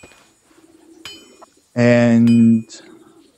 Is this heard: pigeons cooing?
yes